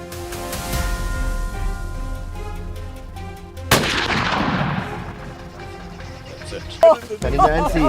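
A single sharp gunshot during a hippo hunt cracks out midway and rolls off in a long decaying echo, heard over a steady tonal musical background.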